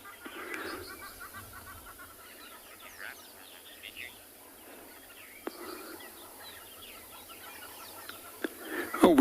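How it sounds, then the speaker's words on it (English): Scattered short groundscraper thrush calls sound at a distance over a quiet outdoor sunrise background, with a few sharper notes near the end. "The bird call that we're also hearing is that of a ground scraper thrush."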